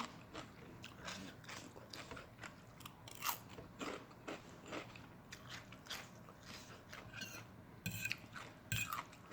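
Someone eats spicy Thai papaya salad with crab, a steady run of close, wet chewing and crunching bites with sharp crackles, heard alone without speech.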